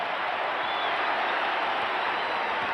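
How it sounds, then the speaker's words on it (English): A large NBA Finals crowd at a Lakers–Pistons basketball game cheers and applauds, a loud, dense, unbroken roar of clapping that fills the whole stretch. "This crowd is loving it."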